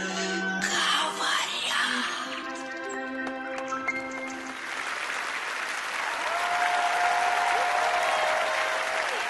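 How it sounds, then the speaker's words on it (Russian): Arena audience applauding after a pairs figure skating performance to a romance, music fading out as a sustained wave of clapping swells and holds. "Я тоже аплодирую ребятам"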